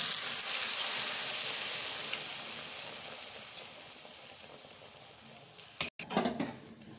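Water hits hot, sizzling masala for a home-style Bhola fish curry with green tomato, setting off a loud steamy hiss that slowly fades, followed near the end by a brief clatter of stirring.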